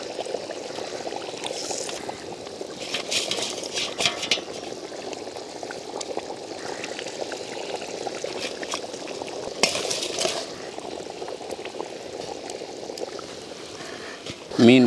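Fish pieces going into a simmering, oil-separated village-style ground-masala fish curry (meen kulambu), giving a steady bubbling, pouring-like wash throughout with a few brighter splashes, and a sharp clatter right at the end.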